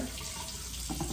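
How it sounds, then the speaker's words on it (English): Tap water runs into a bathroom sink during a face wash, a brief close steady splash and stream. "We're going to wash our face."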